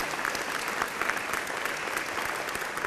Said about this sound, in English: Let's give a big round of applause for all of our students first